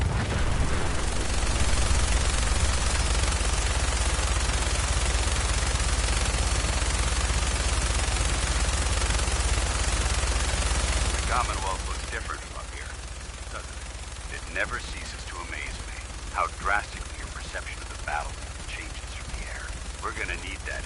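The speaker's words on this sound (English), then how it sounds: "That minigun in front of you is loaded and ready to fire." Minigun fire from a helicopter in a video game, a loud continuous roaring burst filling the first twelve seconds, then cutting out to quieter scattered background sounds.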